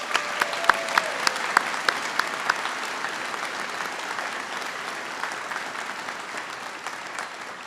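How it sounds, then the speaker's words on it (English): An audience at the WVSOM 2025 White Coat ceremony applauds assistant deans and department chairs with steady, moderate clapping and a few sharper close claps near the start, holding evenly and then easing slightly. "Let's give these people a big round of applause"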